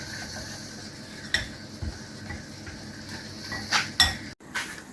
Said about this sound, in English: Give it all a nice mix.